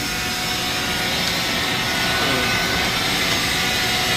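A vacuum runs with a steady, loud whooshing roar as it sucks sediment out of a water heater tank, the suction tone shifting slightly midway through.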